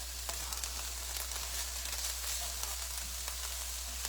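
Chopped onion and garlic sautéing in a pan, giving a soft, continuous sizzle with light crackles, fairly quiet over a low steady hum.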